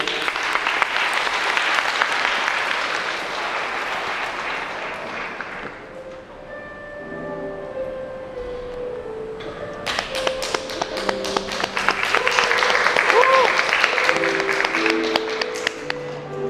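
Guests at a wedding ceremony in a hall clap steadily to welcome a speaker. Dense applause fades to scattered claps over soft background music, then swells again into a second strong burst of clapping.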